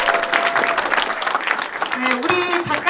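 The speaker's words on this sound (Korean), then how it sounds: "다시 한번 박수 보내주세요." Audience applause at a Korean book talk concert after a lecture, loud and sustained throughout, with a steady musical tone and a brief voice coming in near the end.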